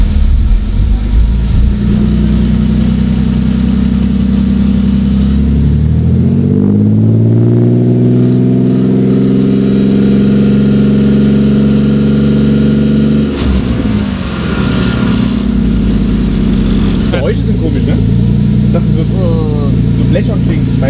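Car engine revving hard during a run-in test, a loud sustained drone whose pitch climbs steadily, holds high, then drops sharply and rises again, close and alone without talk.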